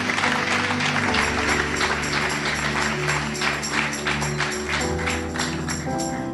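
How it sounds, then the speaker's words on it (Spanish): A church congregation claps during a Spanish-language sermon, a steady wash of applause blended with sustained music tones for several seconds, moderately loud and continuous. "Un aplauso fuerte al Señor."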